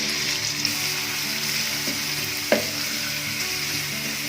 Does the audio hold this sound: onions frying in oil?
yes